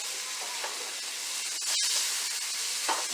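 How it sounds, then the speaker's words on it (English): Frozen carrots hitting a hot pan give a steady, close broadband sizzle and hiss that holds throughout, with a brief sharper burst partway and slight swells, no talking. "I'm just going to add a good chunk of these carrots to the pan"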